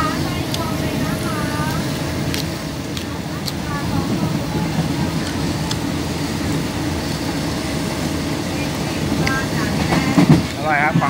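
A Thai passenger train rumbles steadily, heard from inside the carriage, with continuous low clatter and rolling noise under people talking throughout.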